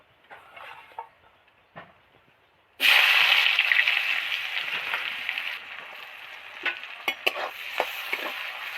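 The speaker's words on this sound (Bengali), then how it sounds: "এবার কিছুটা কুচনো পেঁয়াজ এর মধ্যে অ্যাড করব" Chopped onions drop into hot oil already crackling with chili and bay leaf, setting off a sudden loud burst of sizzling after a few quiet seconds. The hiss then settles to a steady fry with sharp stirring scrapes and clatters.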